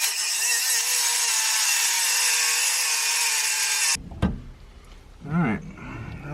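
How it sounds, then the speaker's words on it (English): A power tool cuts through the end of a bolt on a Porsche short-throw shifter, a loud steady high-pitched whine for about four seconds that stops abruptly, followed by quieter clatter and handling noises. "I'm just going to cut the end of that bolt off"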